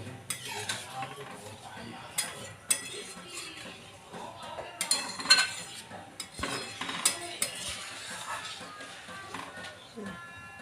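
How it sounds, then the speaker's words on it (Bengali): Carrot halwa with milk stirred in a pan, scraping clinks of a spoon against metal coming in irregular bursts, moderately close and fairly quiet. "আমি এটাকে সুন্দর করে টানিয়ে নেব"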